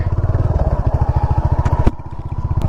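A Royal Enfield Hunter 350 single-cylinder engine running close by, a steady throbbing thump with a brief sharp clack midway before the pulsing continues.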